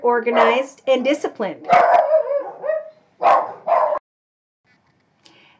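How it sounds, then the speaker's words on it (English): Several dogs bark and yip in sharp bursts close by, interrupting a woman's speech, then the room falls quiet with a faint yip near the end. "Sorry about my dogs."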